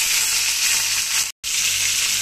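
Green chillies frying in hot oil alongside cumin, fennel and curry leaves, a loud continuous sizzling hiss broken by one brief cut of silence, no talking.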